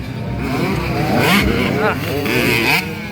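Small 65cc motocross motorcycles race in a final at Calinan MX, their engines buzzing and revving loudly and continuously, rising and falling with gear changes, while a crowd chatters and shouts throughout.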